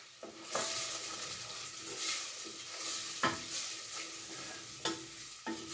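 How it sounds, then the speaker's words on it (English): Stirring a cooking pot just after adding vegetable bouillon powder, with a gentle sizzle underneath and a few soft scrapes or taps of the spoon against the pot, close and steady with no talking. "give that a stir"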